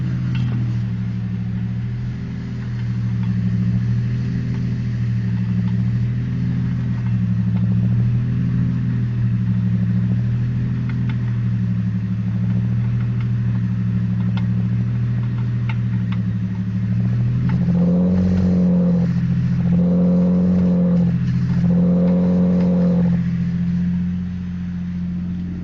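A truck engine holds a steady low drone, then revs in three rising, pulsing surges near the end as its wheels spin. The sound is loud and close, with no voices.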